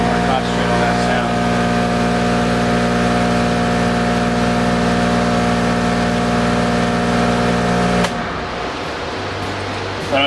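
A portable spot cooler with an E4 error gives off a loud, steady, high-pitched squealing whine with strong overtones. It runs unbroken for about eight seconds, then cuts off, leaving a lower, quieter hum.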